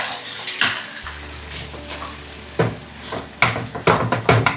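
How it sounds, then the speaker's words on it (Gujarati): Farali samosa filling of potato and mango chhundo being mixed in a pan, with irregular scraping and clinking of the spoon against the metal pan and a low hum in between, close and fairly loud. "એને કમ્પ્લીટ મિક્સ કરી દઈશું."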